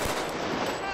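Assault rifle firing real bullets on a desert training ground, a rapid burst of shots packed into a single second, fairly distant and moderately loud.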